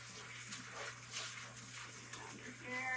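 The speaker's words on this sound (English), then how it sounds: "Under here, wash that bok choy." Tap water running over bok choy being washed, a soft continuous splashing and hiss under a low steady hum, faint and close.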